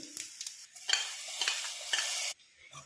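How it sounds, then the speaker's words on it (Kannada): Mustard seeds and garlic are tossed into hot oil in a pan as tempering for a basale leaf sambar, producing bursts of crackling sizzle with stirring scrapes that cut off abruptly near the end. "ಸ್ವಲ್ಪ ಎಣ್ಣೆ ಹಾಕೋತಾ ಇದ್ದೀನಿ ಬಾಣಲೆಗೆ. ಸಾಸಿವೆ, ಬೆಳ್ಳುಳ್ಳಿ, ಸ್ವಲ್ಪ ಹಿಂಗೆ ಹಾಕೋತೀನಿ."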